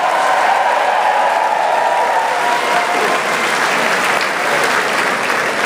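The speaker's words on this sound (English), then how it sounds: "Give them a great round of applause." Sustained, dense applause from a large crowd fills a political victory party, loud and steady from start to finish with no pauses.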